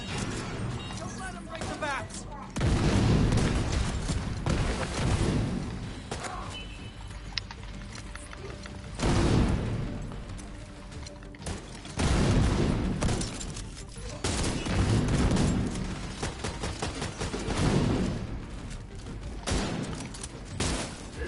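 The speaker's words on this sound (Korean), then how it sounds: "수류탄, 수류탄 쏜다" Heavy blasts of gunfire and explosions from a grenade fight in The Division 2 come in loud waves, several seconds apart, over a steady wash of combat noise.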